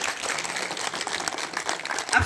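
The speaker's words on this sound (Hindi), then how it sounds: "अपने व्यासी के लिए जोरदार ताली बजाएंगे सभी।" Audience at a Bhagwat Katha religious gathering applauding the speaker, a steady, moderately faint wash of many hands clapping throughout the brief moment, slightly distant, with no voices over it.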